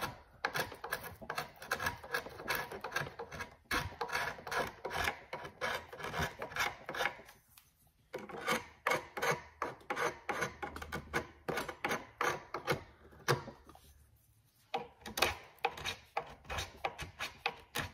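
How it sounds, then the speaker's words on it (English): Glue nibs being scraped off rattan furniture, with rapid rhythmic rasping strokes, close and fairly loud, in long runs broken by two short pauses. "So I'm just gonna scrape off all these glue nibs."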